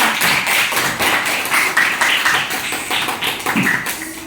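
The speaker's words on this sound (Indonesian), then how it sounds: "Yo, tepuk tangan sekali lagi." Students in a classroom burst into applause, a dense, steady run of hand claps that keeps going throughout with slight swells, and no voices on top.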